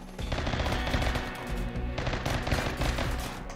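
Sustained, rapid gunfire from a RimWorld colony battle (modded game), dense bursts of shots layered over one another with no pauses, loud and continuous throughout.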